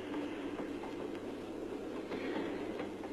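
A train speeds along the rails with a continuous rumbling roar and faint rhythmic wheel clatter. The sound is steady and close throughout, with no speech.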